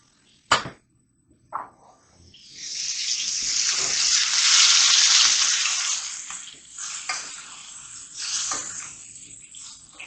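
Steak searing in oil in a hot pan after sous vide cooking, a loud sustained sizzle that swells as oil is spooned over, after a couple of sharp clinks.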